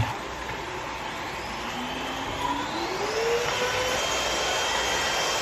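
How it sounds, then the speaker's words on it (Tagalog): Nibot vacuum hair comb running with a steady whirring motor drone, close and continuous, the pitch rising slightly partway through, no talking. "Ito yung vacuum na may suklay."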